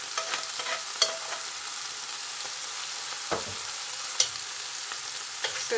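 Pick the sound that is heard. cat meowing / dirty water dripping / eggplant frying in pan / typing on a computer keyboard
eggplant frying in pan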